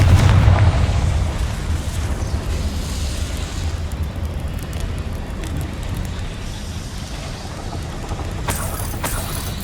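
Confringo fire spell blast in the Hogwarts Legacy video game: a heavy booming burst at the start that rolls off into a long rumbling decay, with a brighter crackle near the end.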